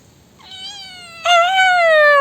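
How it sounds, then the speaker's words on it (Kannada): A cat meows loudly and close by in a long, rising call that swells into a stronger, drawn-out cry partway through, with nothing else heard. "ನಮ್ಮಮ್ಮ ಬೆಕ್ಕಿನ ಕಟ್ಟಾಕಿರು."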